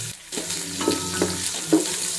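Garlic, ginger, chillies and onion frying in hot oil, a steady close sizzle with a few soft stirring scrapes.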